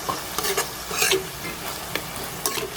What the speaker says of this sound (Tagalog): ukayin ang manok.